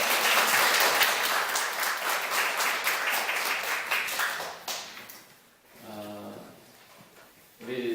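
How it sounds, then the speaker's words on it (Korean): A church congregation claps together in sustained, dense applause that fills most of the stretch, then tapers off, with a short spoken phrase and some clatter near the end. "우리 베드로 회장님하고 우리 베드로 회원에게 한번 다 같이 심찬 박수로 격려해"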